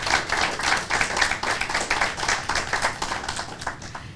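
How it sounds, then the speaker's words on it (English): An audience at a 2021 Richland 1 Hall of Fame induction ceremony applauds steadily, a dense, loud wash of many hands clapping that holds for the whole stretch without voices. "Please join me in giving a round of applause to the 5 members of the 2021 Richland 1 Hall of Fame induction class."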